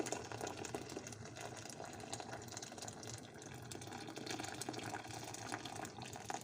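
Water pours steadily into a pot on the stove while Ottoman Ramadan sherbet is being made. The rushing, splashing flow runs continuously and fairly quietly, with no talk over it.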